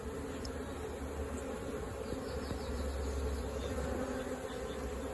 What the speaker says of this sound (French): toutes les abeilles vont rapidement rejoindre la maman.